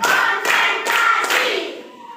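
Rhythmic group hand clapping from a class of students doing a 'tepuk' warm-up routine before a lesson: about four steady, evenly timed claps, loud and close, tapering off near the end.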